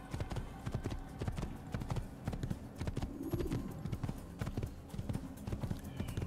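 Rapid, steady hoofbeats of a horse galloping in the Assassin's Creed video game, a continuous rhythmic clatter carrying through the whole stretch with game ambience behind it.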